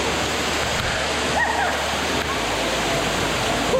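A steady, loud rush of falling water fills the scene, a constant dense roar with splashing texture and no pauses.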